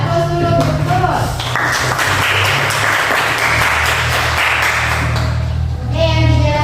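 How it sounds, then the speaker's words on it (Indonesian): Classroom applause for Nurul, a student who has just presented on the causes of disease: a dense burst of many hands clapping, loud and steady for several seconds before tapering off. "kasih aplaus dulu untuk Nurul"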